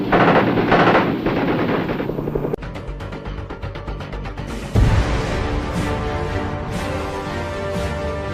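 Sustained bursts of .50 caliber machine gun fire from a Vietnam War Swift Boat, loud and close, rattling in rapid rhythmic strings with abrupt shifts between bursts.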